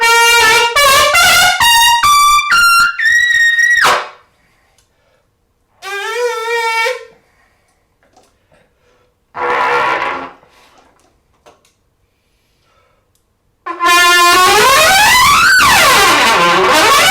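A brass instrument played on a Bach 7C mouthpiece, with loud sustained notes and rising runs in separate bursts, the first, a short middle phrase and a final long passage, split by silent gaps.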